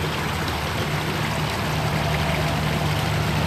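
The Sandy River flowing steadily, a dense, constant rushing wash of water heard close and fairly loud throughout, with no pauses and a faint low hum underneath.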